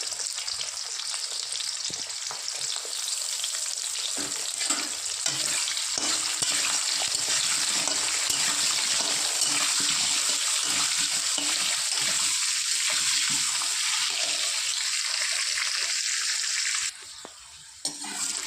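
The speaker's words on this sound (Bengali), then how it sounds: "আলু ভাজা হয়ে গেছে, এবার তুলে নেব।" Potatoes seasoned with salt and turmeric frying in a pan, a constant close hissing sizzle with light stirring scrapes that runs for the whole stretch before briefly dropping away near the end, with no talking.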